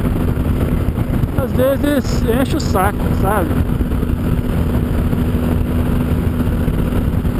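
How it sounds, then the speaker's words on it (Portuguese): A BMW GS 1200 Adventure motorcycle engine idles with a steady, close mechanical drone and hum throughout, while someone talks over it in the middle. "o que eu tô observando nessa moto é o barulho"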